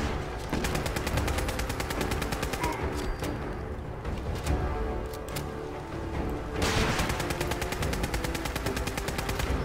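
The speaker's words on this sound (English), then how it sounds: "The rocket launcher, I think I just killed him." Rapid automatic weapon fire and explosive blasts from a firefight in the video game Fallout 4, with a rocket launcher in use; dense, continuous bursts of shots run throughout, easing briefly in the middle before picking up again.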